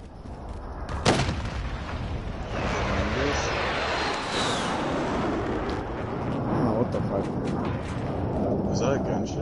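A single sharp gunshot cracks out in Call of Duty Warzone, followed by a steady wash of game ambience with muffled voices in the background.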